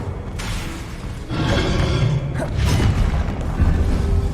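A spell cast in the game Hogwarts Legacy, a whooshing magical burst with a thudding, crackling impact over a steady game background, loud and close.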